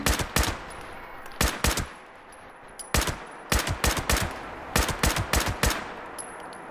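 Gunfire in Fallout 76 aimed at the Grafton monster, sharp loud shots fired in quick rhythmic bursts of two to four with brief pauses between, close and dry, with no talking.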